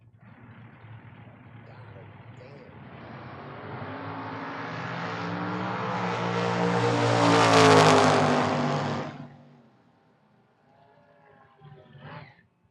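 At a drag strip, a Mustang and a Corvette race down the track. Engines roar and swell to a loud peak as the cars pass, then fade quickly into quiet, with faint sound afterward.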